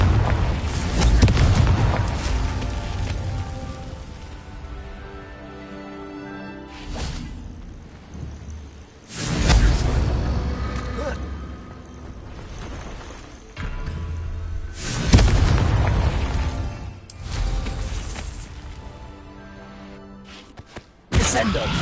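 Fiery Confringo spell blasts from the Hogwarts Legacy video game on PS5 go off as loud, deep booms and whooshes, several bursts spaced a few seconds apart over a rumbling game soundscape.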